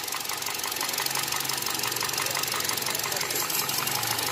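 Hyundai i10 engine misfiring during a cylinder check, idling up close with a rough, uneven knocking pulse and strong vibration, running steadily and loudly with no talk.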